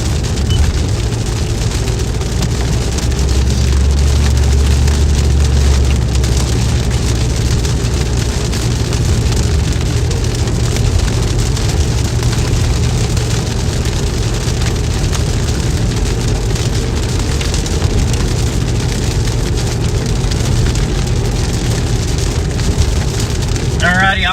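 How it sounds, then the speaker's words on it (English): Heavy monsoon rain pours steadily on a car while it is driven through a storm, a loud, dense, unbroken roar of drumming on the roof and glass with a low road rumble underneath throughout. "I gotta focus on driving in the pouring rain in a monsoon"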